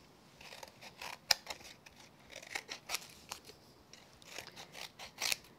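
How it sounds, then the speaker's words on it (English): Scissors snip around the edges of a piece of crafting card, a series of quiet, crisp cuts in uneven bursts, close up in an otherwise silent room. "I'm going to trim around the extra card, keep my scissors at an angle."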